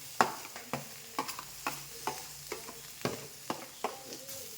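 Coriander and masala fry in a pan with a soft sizzle while a spoon stirs them in regular scraping strokes, quiet and close.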